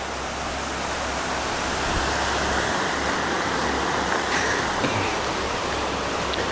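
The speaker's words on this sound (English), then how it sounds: "Flat, fast-moving water, class 1, maybe some 2 rapids." Fast-moving river water with small class 1 to 2 rapids rushes in a steady, broad, close-up roar, with no voices over it.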